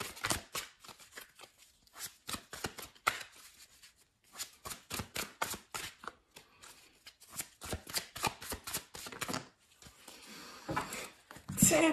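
Tarot cards are shuffled and handled in quick bursts of crisp riffling and slapping, close and fairly quiet, broken by brief pauses, with someone speaking softly at times.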